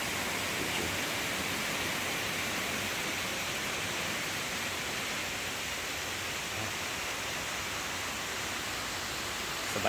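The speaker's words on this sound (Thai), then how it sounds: "เป็นน้ำตกธรรมชาตินะครับ" A natural waterfall pours steadily in a broad, continuous rushing hiss, moderately loud and unbroken throughout, with no voices present.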